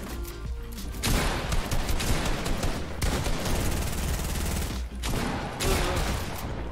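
Sustained automatic gunfire in the video game Fortnite rattles on for several seconds, loud and close, broken by a couple of very brief pauses before the shooting resumes.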